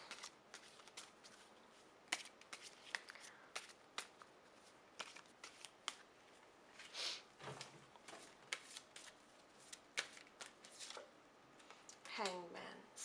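Tarot cards being shuffled and pulled, a run of sharp irregular flicks and slaps of cardstock spread across the stretch, quiet and close, with a soft voice briefly at the end.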